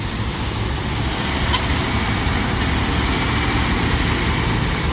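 A truck rolls along a hilly road amid other traffic, a continuous low engine rumble and road noise holding steady and fairly close for the whole stretch, with no talk.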